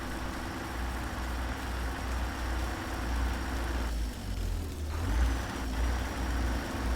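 Cummins X15 truck engine idling in American Truck Simulator, a steady low diesel rumble with harmonic drone that shifts in tone partway through as the listening position moves around the truck; no talk.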